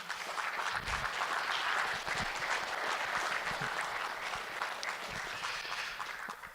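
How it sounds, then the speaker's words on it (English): A theater audience at student farm presentations claps steadily for several seconds, a moderate, even wash of applause with a few sharper claps, no talking over it. "We should have a little bit of clapping, shouldn't we?"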